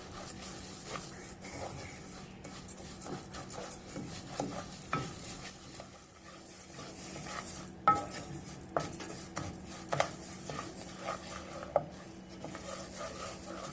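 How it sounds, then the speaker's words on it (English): Rice toasting in a pan over low to medium heat, with a soft, quiet sizzle under repeated scraping and stirring clinks from a utensil against the pan, with no voices. "Toasting the rice on a low heat, maybe somewhere between low and medium"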